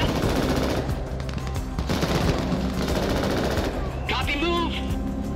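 Heavy sustained gunfire rattles through a battle in the shooter game Crossfire Legion, dense automatic bursts over a constant din, with a voice-like tonal call rising near the end.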